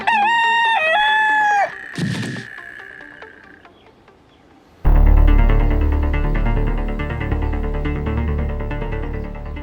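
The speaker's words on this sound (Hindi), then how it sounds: "कहीं असली मुर्गा कुकड़ू को कर रहा है अभी" A rooster crows loudly and clearly in a long, wavering cock-a-doodle-doo, followed by a short quiet stretch with faint insects, then a burst of loud background music takes over.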